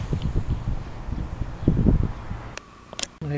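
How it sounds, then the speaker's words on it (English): Gusty wind buffeting outdoors during a homemade flying saucer test flight, a loud low rumble against the microphone with a few sharp knocks near the end. "It's a lot of wind"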